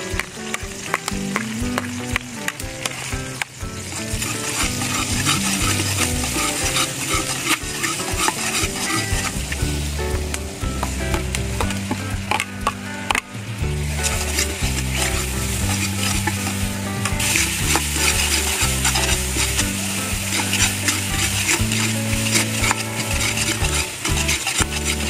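Meat stirred and frying in a pan with garlic, onion, tomato and ginger, a steady loud sizzle running throughout with scraping and clinking of a utensil against the pan.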